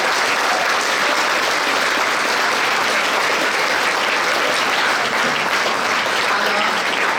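An audience at a regional Expo Science final in Québec claps loudly and steadily for several seconds, a dense, close wash of applause with no pauses.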